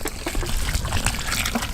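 A full gallon of water dumped into a container of grain for chickens, giving a brief continuous pouring splash close by with no talk.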